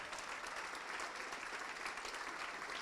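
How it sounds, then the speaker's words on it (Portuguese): A congregation in a church applauds together, a continuous, even patter of many hands sustained at moderate loudness, slightly distant, for about three seconds. "vamos aplaudir ao nome do Senhor"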